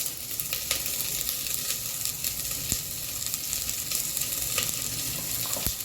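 Spices such as turmeric, red chilli masala and garam masala being stirred into ivy gourd rice frying in a pan, a steady close sizzle with occasional scrapes and clicks of the spoon, no talk.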